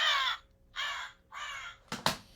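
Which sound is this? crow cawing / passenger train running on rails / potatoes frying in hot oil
crow cawing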